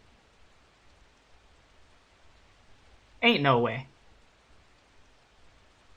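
Rain falls in an alley scene of the Arknights video game story, a steady soft hiss that runs throughout at low level, briefly interrupted by a short spoken remark midway.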